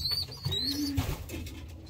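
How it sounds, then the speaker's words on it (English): Small racing pigeons coo softly in a loft, a few low rolling coos with faint chirps and rustling around them, fairly close and unaccompanied by voices. "these pigeons are pretty small, these ones"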